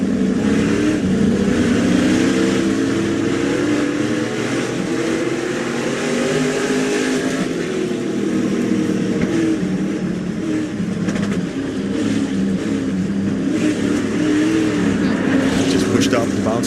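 An SRX race car at speed around the Knoxville Raceway dirt oval, heard onboard as a loud, steady engine roar with shifting pitch as it revs through the corners, with commentators talking over it.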